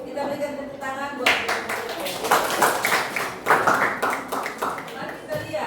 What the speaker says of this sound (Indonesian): Kita berikan tepuk tangan buat